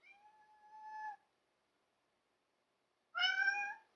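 A house cat gives two clear, fairly close meows separated by a few seconds of silence, the first drawn out and the second louder and more strained, with no talking.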